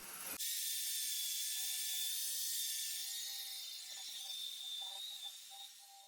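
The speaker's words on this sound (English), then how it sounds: "so I moved on to a corded drill, which made it a lot quicker and a lot easier" A corded drill strips varnish from an old piece of furniture during a restoration, making a continuous high whining buzz with a rough abrasive edge, close and steady with slight wavering.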